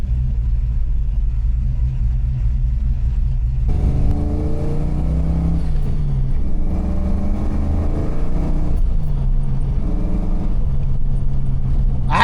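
A car on its maiden drive with a freshly installed clutch and transmission still being broken in, engine rumbling steadily and rising into revs throughout, close and loud with no talk.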